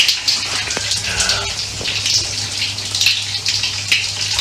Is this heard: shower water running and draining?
yes